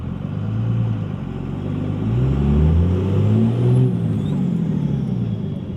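Car with a 150HP tune and brand-new transmission accelerating hard, engine revs climbing in loud close sweeps, with a gear shift breaking the pull about midway before the revs rise again.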